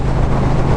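A Triumph Thruxton R motorcycle engine pulls hard toward high revs, giving a loud, dense, steady exhaust roar that holds through the whole short moment.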